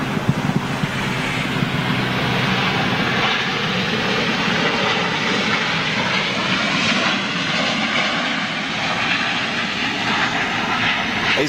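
Large airliner rolling down the runway and turning off at an early exit at a busy airport, a steady loud jet engine roar with wind noise, continuous for the whole stretch and no talking.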